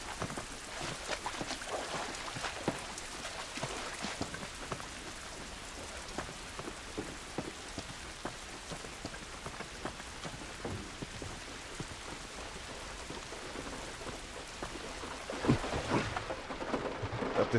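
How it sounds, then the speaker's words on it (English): Rain patters steadily on a surface in a video game, a dense crackle of drops close by that continues throughout without voices. "This rain ain't gonna do us any good."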